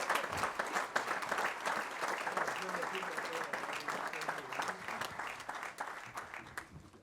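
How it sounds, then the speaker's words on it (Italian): A room full of people gives another round of applause at an Alpini section gathering, with sustained, lively clapping and a few voices audible underneath. "un altro applauso"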